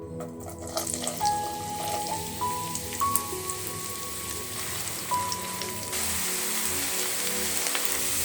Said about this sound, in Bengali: এই তেলে এখন আমি পেঁয়াজ বেরেস্তা করে নিচ্ছি